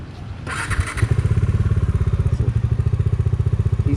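Bajaj Dominar motorcycle engine, starting with a clattering burst and then settling into a loud, close, steady idle with a rapid even thumping pulse.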